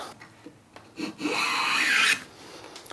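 A hand plane face planing a timber board, one smooth rasping stroke lasting about a second, close and loud, with small wooden knocks and handling taps around it.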